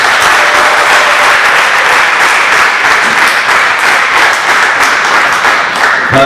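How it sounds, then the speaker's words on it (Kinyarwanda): A church congregation applauds for God during a Kinyarwanda-language worship service, a loud, dense, steady wash of clapping that holds without pause across the whole stretch, with no voices rising above it. "Reka twongere dukomere Imana amashyi"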